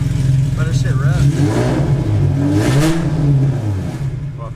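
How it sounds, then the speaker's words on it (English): Cammed Infiniti G35 engine on its first start after a rebuild, idling with a lumpy, choppy rhythm and rising into a couple of revs, recorded up close while a person talks over it. "Listen to that fucking idle, bro."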